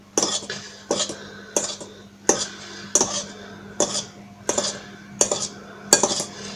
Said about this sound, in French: Donc on va mélanger la préparation pour éviter de casser le blanc.